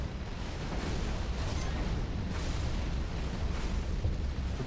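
A torpedo launches and explodes in the Avorion space game, producing a steady, dense rumbling blast with bursts of booming energy throughout and no talk over it.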